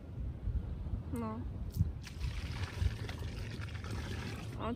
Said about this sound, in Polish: O, córka wlewa wodę.